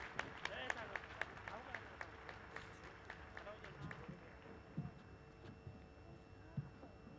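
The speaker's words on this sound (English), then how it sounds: "A huge round of applause for all our dignitaries." Faint applause at a school annual function in Pune, scattered claps for the dignitaries heard at a distance under a low hum, with light thuds and a voice in the background.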